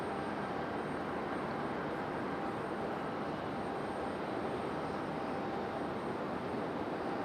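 A CRJ regional jet arrives with a faint, distant, continuous jet rumble that stays even and unbroken throughout, with no voices.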